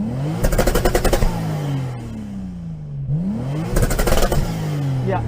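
A limited-edition Toyota Supra TRD engine revs hard in two bursts at standstill, rattling near its limit and dropping back to a throaty idle in between, loud and close.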